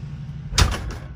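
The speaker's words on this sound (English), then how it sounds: "let me shut this door." A single aluminum horse trailer door thuds shut nearby with a short rattle, followed by a brief settling clunk, over a low steady hum.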